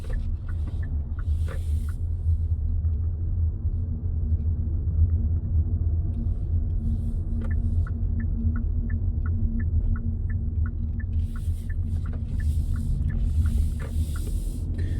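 A Hyundai Bayon driving on a ring road gives a steady low engine and road rumble from inside the cabin, with a repeating tick of the turn signal and brief faint swishes of passing traffic.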